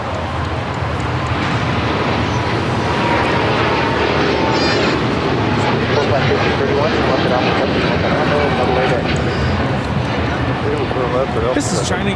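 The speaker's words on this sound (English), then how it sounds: "This is China Eastern Airlines 586 taking off to Shanghai on the 777 300 ER." A China Eastern Boeing 777-300ER roars loudly and steadily as it takes off from LAX bound for Shanghai, a broad sustained jet rumble with radio talk mixed in.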